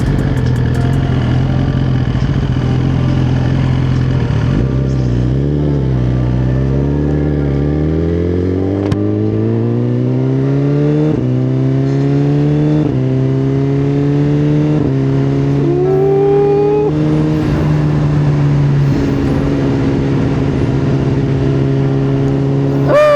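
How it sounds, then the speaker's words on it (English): A car engine downshifts and accelerates, with repeated rising revs and crisp shift breaks, loud and close, no talk. "downshifts is crispy"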